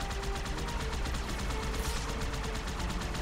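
Steady, continuous rapid gunfire fills a video game battle in Halo 2: Anniversary, with dense repeated bursts running unbroken under a loud wash of combat noise.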